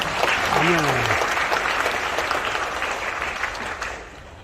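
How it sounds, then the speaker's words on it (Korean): The congregation of Pohang Holiness Church applauds to glorify God on its 91st founding Sunday, a full, close wash of clapping that opens under a brief voice and gradually tapers off. "하나님께 다시 한번 박수로 영광을 해드리겠습니다"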